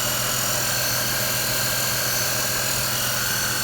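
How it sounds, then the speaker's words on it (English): An engine runs at a steady idle after being started with the ignition, giving a constant, even rumble with a whiny hum above it, close and fairly loud, with no voices. "Now I just have to charge the battery a little bit, turn the ignition and see if it holds."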